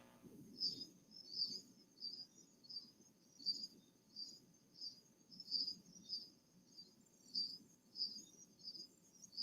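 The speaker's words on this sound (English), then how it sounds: "I can hear all of the crickets just lighting up the night." Crickets chirp at night in a quiet outdoor setting, faint repeated high-pitched trills pulsing in a regular rhythm over a soft low background murmur.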